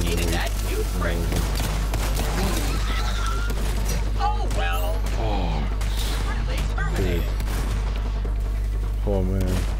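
Pistol gunfire in the video game Borderlands 3, a rapid run of sharp shots and impacts mixed with other game noise while someone talks over them.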